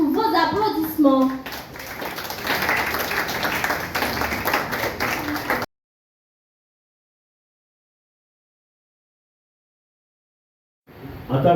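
Audience applause welcoming a guest of honour at a Haitian book festival launch, a mix of voices giving way to sustained clapping for several seconds, then silence, then a brief return of sound.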